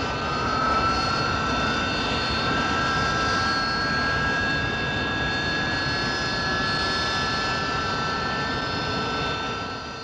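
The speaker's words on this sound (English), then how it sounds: "Onto a pad, nozzles deflected downwards, and the pilot opens up the jets." RAF Hawker Siddeley Kestrel jump jet engines powering up on a pad with nozzles deflected downward, a loud steady jet roar with high whining tones rising slightly, continuous and close throughout.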